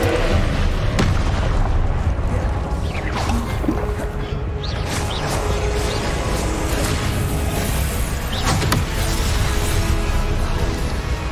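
Confringo spell blasts in Hogwarts Legacy, a few sharp booming bursts set against a constant loud roar of game noise and rumbling effects.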